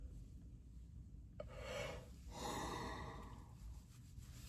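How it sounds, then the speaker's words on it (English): Someone yawns, letting out a drawn, breathy exhale that swells and fades, followed by a second airy breath, quiet and close with no talking. "I always yawn on these"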